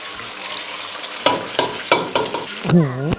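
Eggs poured into hot oil in a wok for stir-fried bitter gourd with garlic, giving a rush of loud crackling sizzle after a few scraping stirs, close and with no talk.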